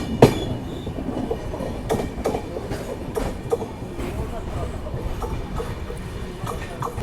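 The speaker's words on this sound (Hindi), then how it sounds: "इस तरफ कुछ ट्रेन जो है वो आ रही है" A train passes along a rural railway line in Maharashtra, with rhythmic clacking of wheels over rail joints and metallic squeals rising over a continuous rumble, fairly close and loud.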